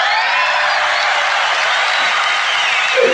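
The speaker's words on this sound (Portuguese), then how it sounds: "vou ter que botar as palmas de novo" An applause sound effect dropped into a Portuguese-language podcast: a dense, even wash of crowd clapping holding at constant loudness throughout, with a brief vocal sound right at the end.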